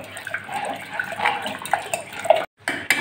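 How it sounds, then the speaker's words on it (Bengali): Water poured into masoor dal (red lentils) in a pot, a close splashing, gurgling stream with small clinks that cuts off briefly near the end. "এবার আমি জলটা দিয়ে দিচ্ছি"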